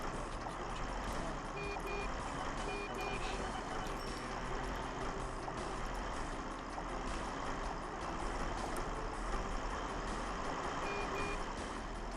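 Trucks rumbling in the OpenTTD transport game, with repeated short reversing beeps in bursts over a continuous engine drone and traffic noise, fairly quiet and steady throughout.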